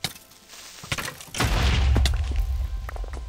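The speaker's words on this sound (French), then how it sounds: "Bon, belle explosion." Charged creeper blowing up in Minecraft, a few scattered pops followed by a deep, rumbling blast that swells and lingers for a couple of seconds, loud and close.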